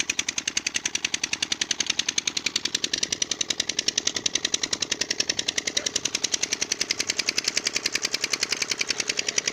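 A Petter engine runs steadily while pumping irrigation water into a rice field, its rapid, even knocking beat continuing close and loud for the whole stretch with no talk.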